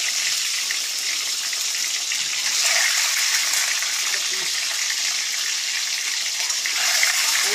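Eggs fry in hot oil with a little salt, still wet on the outside, for a biryani dish. A loud, steady, unbroken hissing sizzle carries through the whole stretch.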